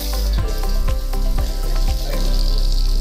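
Water gushes and splashes from the jets of a newly installed Jaquar jacuzzi bathtub, a loud, steady rushing close by, with faint irregular drips and patters over it.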